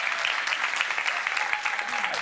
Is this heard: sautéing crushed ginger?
no